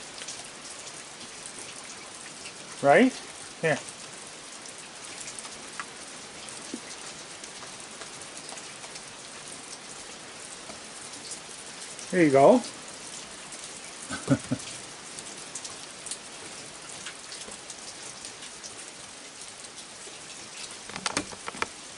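Steady rain falls at night, making a dense, even patter throughout. A few louder close bursts stand out, and a person speaks briefly over it.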